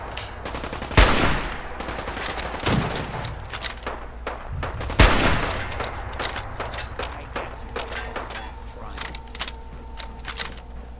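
Submachine gun bursts in Fallout 4, two loud sharp volleys followed by scattered lighter shots and clatter, with some voice sounds mixed underneath.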